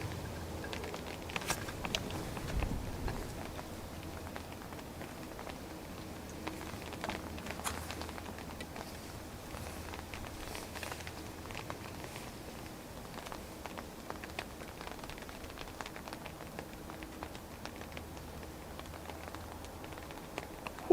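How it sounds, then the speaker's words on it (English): Rain begins falling outdoors at Dublin Airport, a faint, soft patter of drops spread evenly throughout, quiet and steady with scattered small ticks and no talk. "As you can probably hear, it has started raining."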